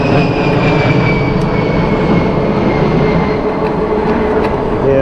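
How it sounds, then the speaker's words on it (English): U.S. military aircraft passing overhead, a steady loud roaring engine rumble filling the whole stretch with broad noise and a faint whine, no talk. "I'm sure you heard that. It's the U.S. Air Force."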